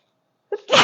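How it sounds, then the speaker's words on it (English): A single sharp sneeze, close and loud, with a short intake then an explosive burst. "I'm going to sneeze"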